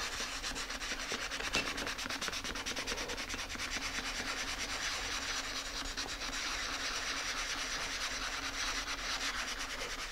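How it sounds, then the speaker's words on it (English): Sandpaper folded over at the edge, worked by hand in small circles over a wooden model part during assembly, giving a continuous close rasping rub with steady rhythmic strokes and no voices. "pull it off the sanding block and sand manually right here in the middle"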